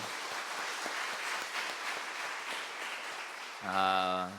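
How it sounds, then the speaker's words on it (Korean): A church congregation claps together in sustained applause, fairly faint and even, before an organ-like tone abruptly enters near the end. "우리 교회 학교 친구들 위해서 박수 한번 합니다."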